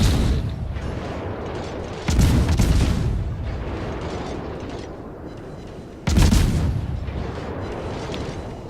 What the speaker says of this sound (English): Torpedoes out. Pop smoke. Time to go guns.